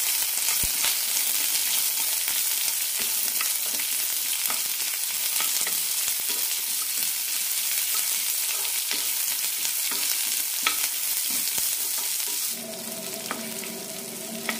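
Chopped onion and five small shallots sauté in a pan for a spicy-sour bitter gourd curry, giving a steady close sizzle with soft stirring scrapes that carries on throughout and changes tone near the end.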